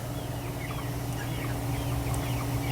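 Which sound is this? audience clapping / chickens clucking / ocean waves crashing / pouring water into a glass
chickens clucking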